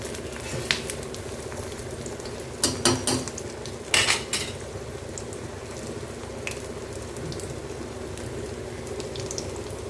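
Bitter gourd vadas frying in hot oil with a steady sizzle, broken by a few sharp metallic clinks and scrapes of a utensil as they are turned over, with no talk.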